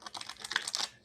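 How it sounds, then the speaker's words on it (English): A deck of playing cards being shuffled during a quiet session, a quick rustling riffle of paper clicks lasting about a second, close and soft with no talking. "give the cards one more shuffle"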